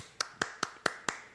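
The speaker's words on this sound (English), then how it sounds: "That's the sound of one hand clapping." Five sharp, evenly spaced claps ring out alone in quick rhythm, each crisp and close with a brief decay, from a single performer at a host's Ramble in Harlem, New York City.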